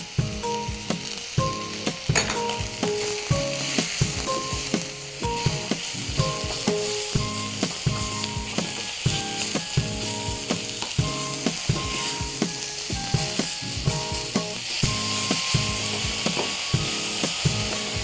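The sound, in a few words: onions sweating with salt, sizzling in a pan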